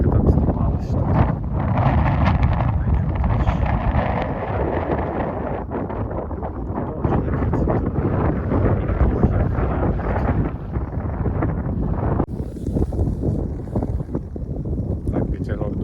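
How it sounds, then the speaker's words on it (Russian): Steady wind buffeting the microphone at a quiet Crimean bay near Cape Chameleon, a loud continuous rumbling gust noise with brief lulls throughout. "Так, ветерок дует"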